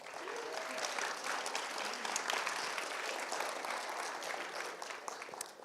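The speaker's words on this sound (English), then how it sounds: "Let's give them a big round of applause" Sustained, even applause from the audience at a startup pitch competition finals, many hands clapping steadily throughout at moderate volume without a break.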